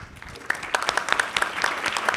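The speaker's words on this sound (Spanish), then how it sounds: "Fuerte el aplauso." Audience applause at a health-systems conference, a burst of dense clapping from a crowd in a hall, steady and fairly loud with no voices over it.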